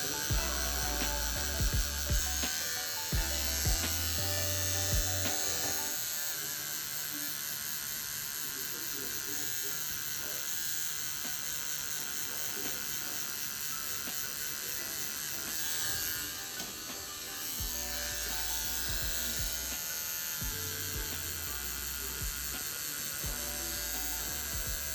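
A homemade tattoo machine built from electric toothbrush motors runs with a steady, dense mechanical buzz and rattle for about twenty-five seconds, shifting slightly in tone now and then.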